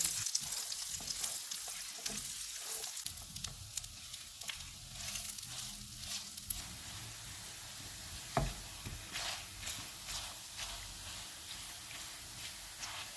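Soft pitted chopped dates roasting in a pan over low heat, giving a quiet continuous sizzle with occasional faint stirring scrapes and clicks throughout.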